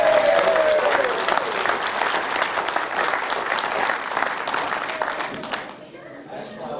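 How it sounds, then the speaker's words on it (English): A community audience applauds at a board candidate meet-and-greet event, loud sustained clapping with some cheering that gradually thins and fades toward the end. "how about a round of applause for us"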